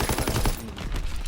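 Automatic rifle fire in a World War II shooter game, a rapid dense burst of close, loud shots running through the whole short moment.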